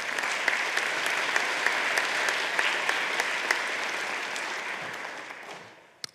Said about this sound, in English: Let's give Nina a round of applause.